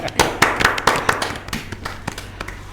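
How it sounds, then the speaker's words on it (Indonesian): Scattered claps from a small group at a teachers' talk event, sparse and uneven, tapering off over a few seconds. "tepuk tangan untuk kita semua"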